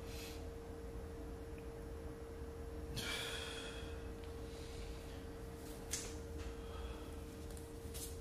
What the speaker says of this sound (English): Exhale and inhale as much as you can